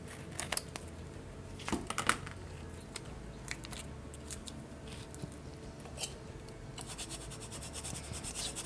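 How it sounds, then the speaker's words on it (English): Vinyl transfer paper being burnished by hand for a paper luminary, a close scratchy rubbing with a few sharper ticks, quiet and continuous. "Just burnishing it really quick."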